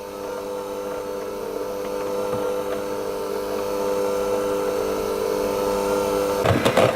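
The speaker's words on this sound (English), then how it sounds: "I'm going to whisk the butter with the icing sugar on slow to start with" An electric mixer runs steadily on slow speed, whisking butter with icing sugar for buttercream, with a constant motor hum that climbs slightly before a brief clatter near the end.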